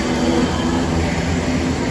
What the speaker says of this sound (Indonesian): Maaf ya guys kalau berisik. Soalnya ini pinggir jalan tuh.